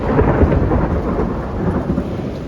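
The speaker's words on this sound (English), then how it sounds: "more thunder." Steady, loud rumbling thunder rolls on with no break, mixed with the hiss of rain, during a storm heard from a balcony garden.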